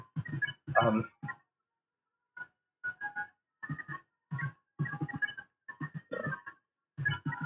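Small dog barks, yips and whimpers come in short separated bursts with silent gaps, a game-style canine attack sound effect from a Deltarune battle, fairly close and alone without talk.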